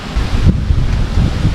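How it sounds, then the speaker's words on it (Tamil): Strong wind roars outdoors during honey hunting on a scorching day, a dense continuous rumble buffeting the microphone throughout with no speech. "காற்று பயங்கரமாக அடிக்குது"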